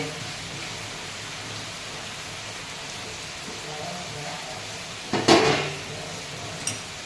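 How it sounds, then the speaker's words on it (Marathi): Steady, soft hiss of rain falling, broken near the end by a brief clatter of pots or dishes. "पाऊस पडतो"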